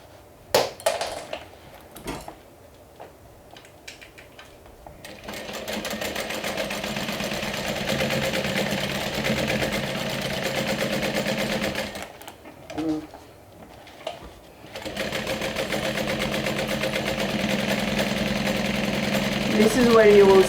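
A sewing machine stitches fabric panels with a 3/8 inch seam allowance, running in long steady bursts with short pauses between them, close and fairly loud, while a person talks now and then.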